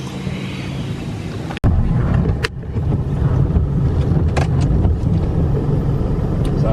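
A car drives along the road with a steady, loud rumble of engine and tyre noise mixed with wind buffeting the microphone, broken by a brief dropout early on.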